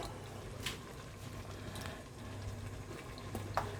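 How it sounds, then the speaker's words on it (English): A liquid fruit cake mixture simmers in a pot after bicarb soda is stirred in, giving a low steady bubbling with a few brief pops and crackles, close and quiet, with no talking. "you can see it started to boil"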